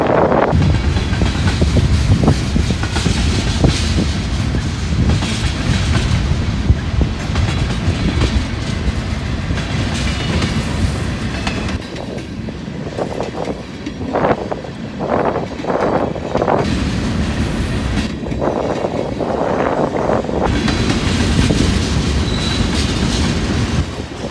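A long freight train passes by on a windy day, its cars rumbling and clattering steadily for the whole stretch with occasional wheel squeals and rhythmic clickety-clack, loud and close, with gusts of wind buffeting the microphone.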